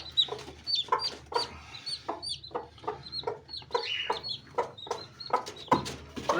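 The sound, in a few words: hen clucking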